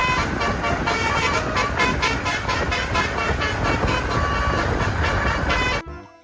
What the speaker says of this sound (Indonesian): Lihat, ada bis telolet.